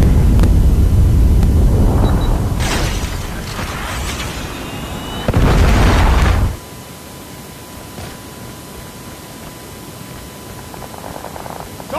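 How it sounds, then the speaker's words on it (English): A Predator missile strike in a first-person military shooter, heard as loud, sustained rumbling blasts across the first half with a sharp burst near the middle, then cut off to a low hiss. "Hostile Predator missile inbound."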